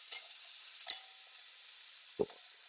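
A chicken roulade sears in a hot pan with a steady, quiet, close sizzle, broken by two brief knocks of a utensil against the pan.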